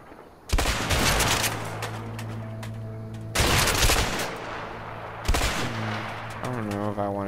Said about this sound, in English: Gonna try the shotgun.